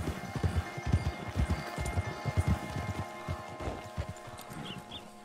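A horse's hooves clip-clop in a video game, a quick, even rhythm of close, loud thumps that keeps going for several seconds, then eases slightly toward the end, with no voices.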